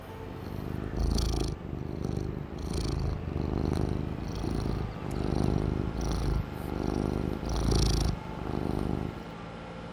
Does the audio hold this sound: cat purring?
yes